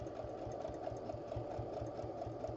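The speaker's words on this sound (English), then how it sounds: "if you don't have a sewing machine you could do this all by hand" A sewing machine stitches a scrappy crumb quilt square, its needle thumping in a steady, even rhythm at close range with no talking over it.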